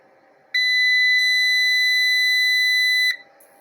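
A MAX8000 inverter sounds a single loud, sustained electronic beep during its startup countdown. The steady tone lasts about two and a half seconds over a quiet hum, then cuts off cleanly.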